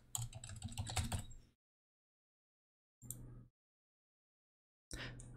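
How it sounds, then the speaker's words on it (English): Someone types a password on a computer keyboard during an Ubuntu server setup. A quick, close run of clicking keystrokes is followed by silence, then two short further bursts of typing. "So let's go ahead and type password for us."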